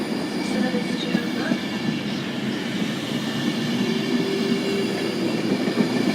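A Virgin train pulls out of Wigan North Western station bound for London Euston, giving a steady, fairly loud diesel rumble with wheel and rail noise and some faint squealing throughout.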